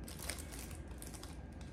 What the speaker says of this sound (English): And this is the little plastic bag.